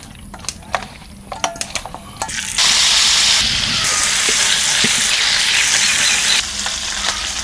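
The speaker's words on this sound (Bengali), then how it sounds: "মাছটা ভাজার জন্য চুলায় ফ্রাই প্যান দিলাম তেল" Fish fries in hot oil in a frying pan on a stove, a dense, loud sizzle bursting in after a few seconds of quieter clatter and continuing steadily to the end.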